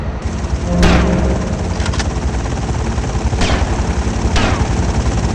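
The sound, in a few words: helicopter and gunfire in video game GTA Vice City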